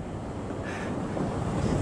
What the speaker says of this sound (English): No, it was just waves.